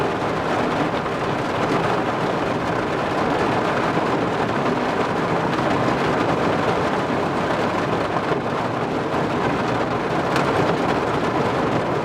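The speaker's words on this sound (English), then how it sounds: "it's really raining." Dense, steady heavy rain roars without a break during car camping, with a low rumble of thunder running underneath throughout.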